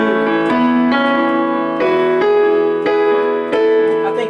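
Piano playing a song arrangement, steady rhythmic chords changing every half second or so over a ringing sustain, loud and close, with no talking.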